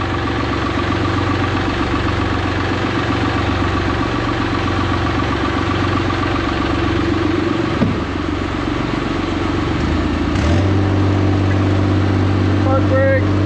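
A piece of heavy equipment idles with a steady, close, throbbing engine note and strong low harmonics. Partway through there is a clunk, then the pitch and load shift as the machine is put in gear and driven out.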